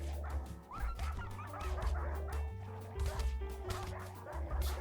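Dogs bark and yip in repeated bursts in the video game Rimworld, a large pack sounding over game music with crashing combat effects, fairly loud and continuous.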